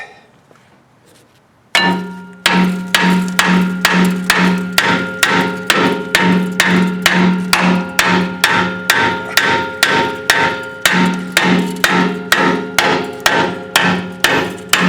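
Steady, loud hammer blows ring out one after another in an even rhythm during rear brake work on a 2009 BMW 328i, each strike clanging metallically, after a brief quiet start.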